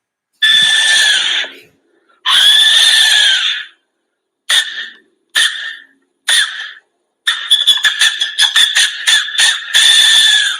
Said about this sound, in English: It has been named the death whistle because the shape resembles that of a human skull